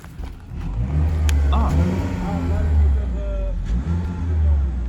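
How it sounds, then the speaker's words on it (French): A petrol engine in a hybrid car starts and revs, a low rumbling drone that builds and holds close by, with people talking over it. "là c'est le moteur qui s'est mis en route"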